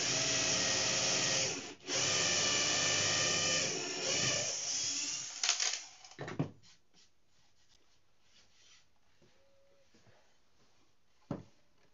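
Hand-sanding of wooden folding chair parts, a steady close scraping rasp that runs for several seconds, then stops, leaving brief knocks and faint handling noises in a quiet room.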